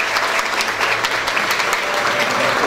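Steady crowd applause at a hospital's 25th anniversary event as the purchasing manager is welcomed on stage, dense and sustained, with faint voices underneath.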